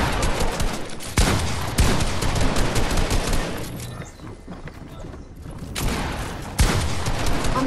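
Rapid gunfire and booming shotgun blasts from a Fortnite match, with pump shotgun shots firing in dense, loud bursts that briefly ease midway before sharp blasts return.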